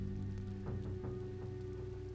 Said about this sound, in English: Rain pours down onto the naked city, as cold and oppressive as ever.